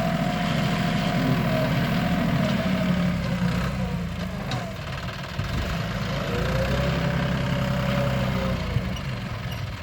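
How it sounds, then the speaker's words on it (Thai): A farm tractor owned by the landowner idles and runs steadily nearby during pond-filling work, a continuous low diesel drone with slight rises and dips in pitch and no talk over it. "รถไถเจ้าของที่เองนะพี่น้องนะ"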